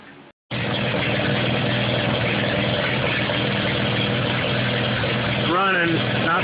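An Allis-Chalmers B tractor engine runs steadily after a carburetor repair, a loud continuous idle with a slightly uneven beat, starting abruptly after a brief quiet moment and holding throughout.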